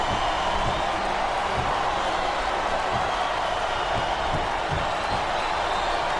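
A capacity arena crowd in the WWE SmackDown vs Raw 2008 wrestling video game keeps up a steady, dense roar of cheering and noise throughout, with faint thuds underneath and no break in the din.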